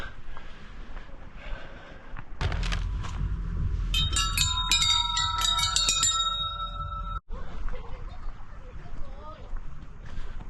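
Outdoor chimes along a landscaped walking path in Sejong, South Korea: a cluster of bright ringing metallic tones starts a few seconds in, rings out over several seconds and fades, over faint wind and background noise.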